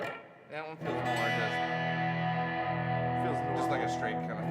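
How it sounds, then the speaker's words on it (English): A Source Audio Artifakt Lo-Fi effects pedal set to a straight filter with light distortion, shaping a sustained, buzzy tone that holds steady and loud after a brief lead-in. "Feels just like a straight kind of filter with a little bit of distortion."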